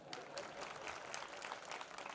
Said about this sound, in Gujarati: તાળી પાડો, તાળી પાડો